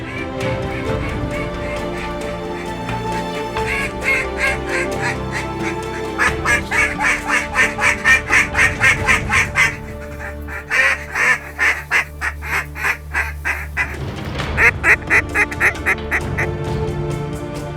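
Ducks quack repeatedly in rhythmic bursts during a Tennessee duck hunt, loud and close, with pauses between the quacking runs and a steady background bed.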